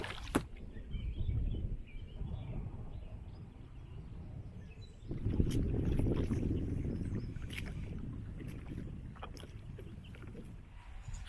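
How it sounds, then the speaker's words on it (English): Paddle strokes on a kayak moving along the Delaware River, soft swishes and splashes of water against the hull at close range, with gentle wind noise and a louder watery surge midway, no talk. "I'll keep paddling."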